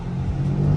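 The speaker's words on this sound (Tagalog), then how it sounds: "Nagpasa muna na yung motor." A motorcycle passes by near a home under renovation, a steady mid-pitched engine drone that builds slightly louder toward the end of the short moment.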